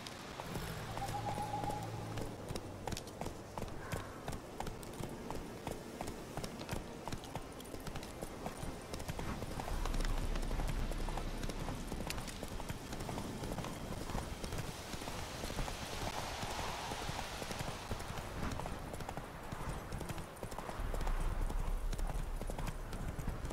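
Roach, the horse in The Witcher 3 game, gallops with a steady, rapid clip-clop of hooves that carries on through the clip, moderately loud, with brief snorts and faint ambient noise around.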